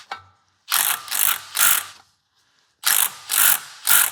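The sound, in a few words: ratchet tightening shifter bolts on Camaro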